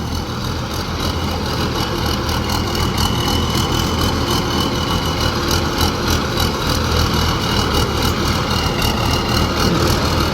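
A combine harvester's engine drones steadily and loudly at close range, a constant low rumble with a mechanical rattle and no break in level throughout.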